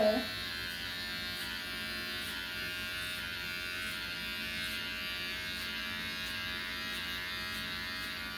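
Electric hair clippers with a 1.5 guard (3/16 inch, 4.5 mm) cutting a man's hair in a home quarantine haircut, giving a steady close buzz that runs unbroken with no talk.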